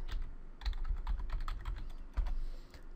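Keys clatter on a computer keyboard as a command is typed at a Windows safe-mode command prompt, a quick run of close, light taps with a few heavier strokes and no talk.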